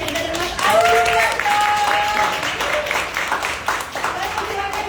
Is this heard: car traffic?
no